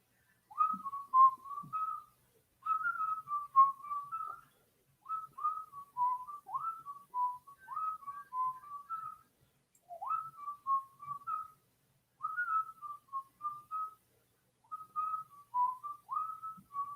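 Someone whistles a tune from Snow White, a clear, bright solo melody in short repeated phrases with brief pauses, close and alone without talk.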